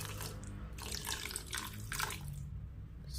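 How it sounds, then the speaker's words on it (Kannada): Water pouring into a pan of semolina roasted in ghee while making sheera, a steady close trickling and splashing flow that runs the whole time with small bursts, no talking. "ಇಲ್ಲಿ ಎಷ್ಟು ರವೆಗೆ ತಕ್ಕಷ್ಟೇ ನಾನು ನೀರು ಹಾಕ್ತಾ ಇದ್ದೇನೆ"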